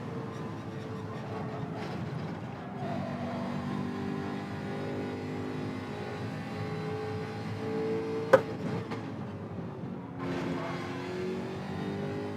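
A race car engine in a racing video game holds a steady revving drone, pitch rising and falling in long stretches, with one sharp click partway through and no talk.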